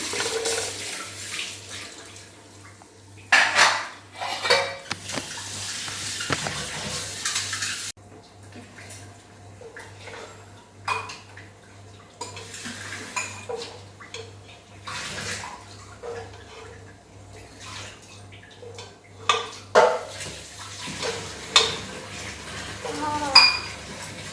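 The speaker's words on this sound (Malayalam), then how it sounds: "ഇത് ഞാൻ ഈ ഒരു പാത്രത്തിലേക്ക് കോരി വെക്കുകയാണ്" Cooked prawns are scooped from a pot into another vessel, with repeated metal scraping and clinking of a ladle against cookware and wet splashes, close by, alongside intermittent talking.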